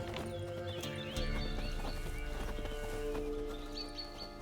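Roach, the horse from The Witcher 3, trotting with steady, close clip-clop hoofbeats over a dense game soundtrack, with a whinny breaking through.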